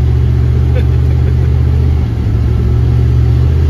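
A turbocharged LS-swapped Caravan driving, its engine giving a loud, constant low drone with a slight dip partway through, heard from inside the cabin.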